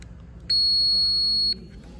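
A single steady, high-pitched multimeter continuity beep lasts about one second while probing a refrigerator relay, loud and clear over a quiet background.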